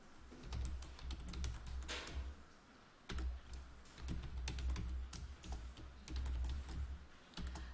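Someone types on a computer keyboard, a quiet run of rapid clicky keystrokes in bursts with brief pauses between them.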